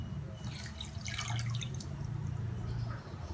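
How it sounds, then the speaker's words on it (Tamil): Coloured water being poured into sugar for motichoor laddu, heard as a close, steady trickle and splash, louder in the middle, over low background noise with no talking. "இதை அப்படியே அந்த சர்க்கரையில் ஊற்றிடுங்க."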